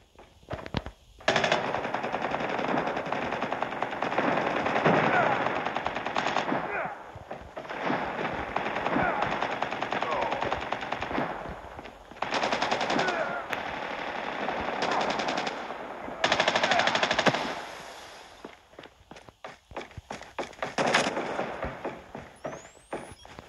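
Rapid bursts of POW 57 rifle fire in a Call of Duty Mobile frontline match, loud and repeated with short pauses between volleys, mixed with game voice callouts and battle effects.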